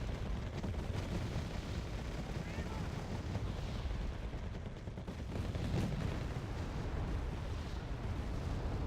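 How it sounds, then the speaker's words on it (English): Artillery barrages and explosions from the Wargame: AirLand Battle video game, with a continuous dense rumble of booming impacts and gunfire throughout, no clear gaps between blasts. "Our artillery is able to hit them pretty hard."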